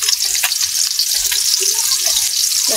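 Chopped onion fries in hot oil in a wok for a sour fish curry, giving a loud, bright, continuous sizzle with a few soft stirring scrapes and no talking.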